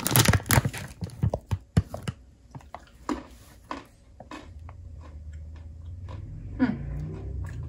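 Crunchy maple-flavored snack bitten and chewed up close, with loud crisp crunches in the first two seconds, then slower, softer chewing and a light bag crinkle over a low room hum.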